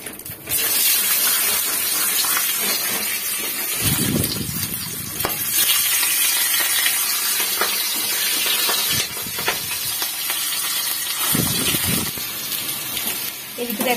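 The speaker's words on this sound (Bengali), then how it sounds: "মা মাছগুলো ভেজে নেব।" Fish frying in a pan of hot oil while cooking a home meal, a steady broad sizzle throughout with louder bursts of crackle and a little background voice.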